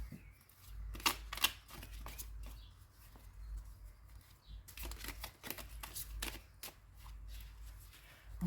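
Tarot cards being shuffled and drawn at close range, bursts of crisp riffling and flicking with soft slaps and taps between them, quiet pauses separating the clusters of card handling.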